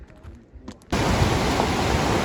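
A mountain river on the trekking route from Nepal toward Kailash Manasarovar rushes in a loud, steady roar of water that bursts in abruptly after a quieter opening with faint scattered sounds.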